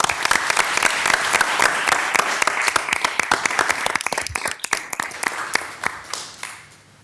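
A city council meeting audience applauds its leaders, a sustained round of clapping that fills the room before thinning out and fading near the end.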